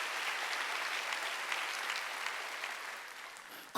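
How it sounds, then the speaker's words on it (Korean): A church congregation claps during a worship service, a soft, diffuse patter of many hands that holds steady and fades toward the end before a brief, sharp noise. "박수 치려면 치고 말려면 말라는 거다"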